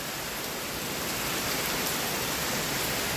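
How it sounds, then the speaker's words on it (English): Heavy rain falling in the Appalachian hills, a loud continuous wash of drops striking the ground and nearby surfaces, steady throughout and heard alone. "God is good. We need this rain."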